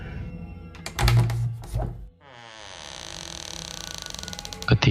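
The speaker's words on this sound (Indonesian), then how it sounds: "Kubuka pintu kamar pelan-pelan." A bedroom door creaks slowly open in a long, drawn-out groan after a few muffled thumps and knocks, close by in a quiet room, ending with another soft bump.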